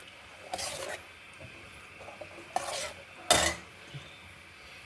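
A spoon clinks and scrapes against a pan while garlic cooks in ghee, a few distinct metallic stirring strokes over a faint, steady background sizzle with no talking.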